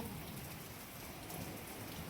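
Unseasonal village rain during a storm falls steadily on the ground and other surfaces as a dense, continuous hiss with no let-up.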